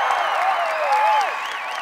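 Crowd applause and cheering for Senator Ken Salazar at a Barack Obama campaign rally at Colorado State University in October 2008, a steady wash of clapping with whistles over it for under two seconds.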